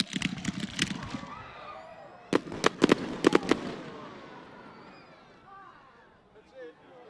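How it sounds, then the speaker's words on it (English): New Year's Eve fireworks at the Burnie carnival, a cluster of sharp, loud bangs crackling in quick succession over a murmuring outdoor crowd, with people talking before and after the bursts. "Let's go with the fireworks."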